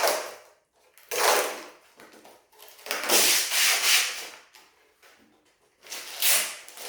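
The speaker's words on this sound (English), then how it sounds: "Protective sheet comes off easy enough." A protective plastic sheet is peeled off a Starlink Mini dish cover in several close, crackling rustles separated by short pauses.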